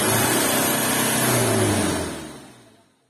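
A diesel engine held at a high rev of about 4000 RPM roars loudly and steadily up close, then winds down and fades out over the last second.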